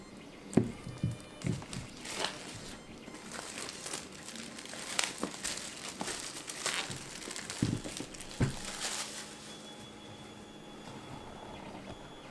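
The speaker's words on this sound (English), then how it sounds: "let's go ahead and cut this open" Cardboard packaging on an Infinity Defiance board game box with the Outcast expansion being cut open: crinkling shrink-wrap and scattered sharp slicing and snapping transients, close and fairly quiet, with no talking.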